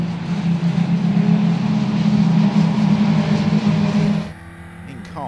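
Radical race car engines idle together on the starting grid at Snetterton for the Dunlop Radical UK Cup, a loud, steady low drone that cuts off abruptly near the end.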